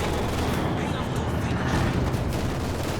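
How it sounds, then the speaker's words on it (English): Mortar barrage explosions in a competitive WWII-style video game match, a dense continuous roar of rumbling blasts and gunfire filling the whole stretch, loud and unbroken. "that mortar in Quiritz's hand is getting some big hits"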